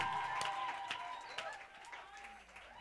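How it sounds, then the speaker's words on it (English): Audience applause at a church youth launch event, moderate clapping with a crowd murmur, spread across the room and fading toward the end, with faint voices beneath. "Can you give him a round of applause?"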